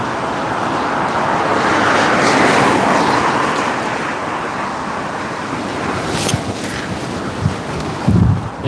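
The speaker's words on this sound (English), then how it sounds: "It's a windy one, guys." Wind blows strongly outdoors beside a road near a slaughterhouse, a broad continuous rushing roar with a few sharp bumps near the end.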